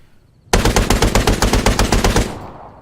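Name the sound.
50 cal machine gun firing from a UAV in the video game Arma 3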